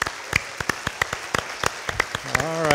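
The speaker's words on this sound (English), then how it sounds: "let's give our judges an advance round of applause" Scattered claps from an audience greeting the judges at a business competition ring out as a sparse, uneven patter, with a voice starting to speak at the end.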